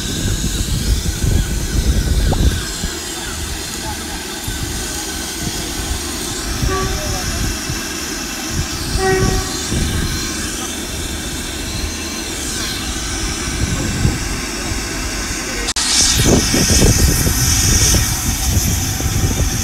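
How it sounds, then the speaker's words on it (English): Steam locomotives Royal Scot 46100 and Britannia 70000 at Exeter St David's station: a steady low rumble of idling engines and platform ambience, with a louder burst near the end. "I just thought I'd show you the locomotives"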